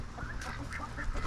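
Turkeys on a small farm calling close by, a run of short honking, gobbling bird cries repeating over steady background noise, with no talk.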